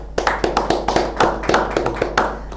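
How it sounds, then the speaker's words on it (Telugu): Hands clap for a successful student at a coaching academy meeting, one person's sharp, close claps in a quick, slightly uneven rhythm of about ten strikes, loud and alone. "so first of all big claps to Laxman"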